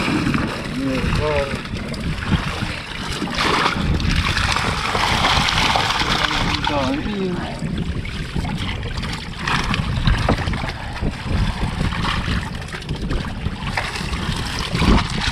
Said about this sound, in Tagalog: Mga 2 balik siguro lang tayo dahil malaki tong bangka ni na Boss Billy.